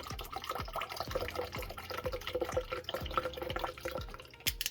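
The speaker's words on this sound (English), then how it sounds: "roughly we're going to do about half a cup of the vinegar" Rice vinegar, or a similar vinegar, poured from a bottle into a bowl for an Asian chicken salad dressing, giving a steady trickle with rhythmic glugging drips, close and moderately quiet, with no talking.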